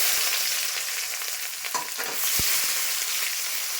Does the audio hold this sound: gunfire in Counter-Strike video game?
no